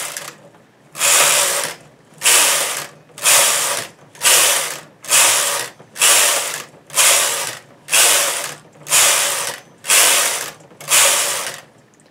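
A knitting machine carriage is set to knit all the needles and pushed back and forth across the bed for a blanket hem. Loud, regular rasping, ratcheting sweeps repeat about once a second, each about half a second long with short pauses between.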